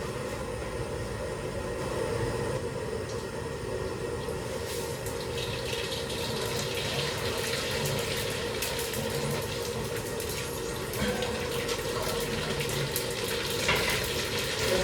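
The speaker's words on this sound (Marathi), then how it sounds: "तेल चांगलं टाकल्याच्या नंतर आपल्याला जिरे आणि मोहरी टाकायची आहे" Cumin and mustard seeds sizzle and crackle steadily in hot oil, a constant close frying hiss that runs throughout with no talking.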